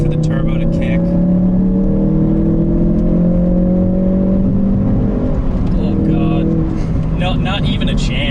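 Ford Focus RS turbo car accelerating hard, its engine note climbing in a steady drone with rising harmonics, heard from inside the cabin alongside other engine noise, with people talking near the end.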